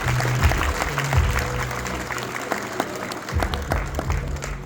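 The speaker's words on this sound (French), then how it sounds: "Applaudissements très fort, s'il vous plaît." Audience applause at a live event, sustained clapping with cheering and some voices mixed in, with steady tones underneath from music or sound equipment.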